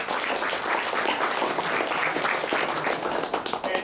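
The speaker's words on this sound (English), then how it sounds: "let's give a round of applause to our panelists" An audience at a NoSQL conference applauds its panelists, dense sustained clapping from a room full of people, steady and moderately loud, thinning a little near the end.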